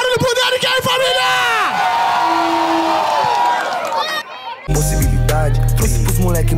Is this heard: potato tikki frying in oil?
no